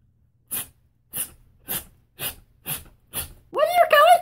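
A voice imitates a rabbit sneezing: six short, sharp sneeze-like bursts at an even pace, close and loud, then a drawn-out whimpering vocal sound.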